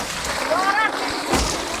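Water is poured and splashes in short bursts while a vehicle is being washed, with a brief voice-like tone sounding in the background.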